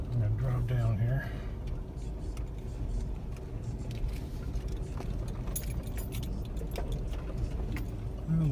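A car rolls slowly along a rural property road, its steady low rumble continuing throughout with keys jangling inside the cabin while someone talks.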